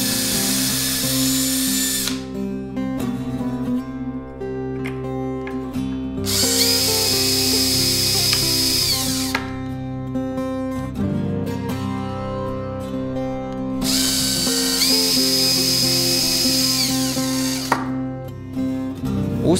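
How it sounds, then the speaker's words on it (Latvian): A power drill bores holes for a door strike plate during interior door installation, whining in three long loud bursts separated by short pauses, close and steady with no talk. "Pirms tam izurbjam caurumus ar urbi un ieskrūvējam skrūves jau divos gatavojos caurumos."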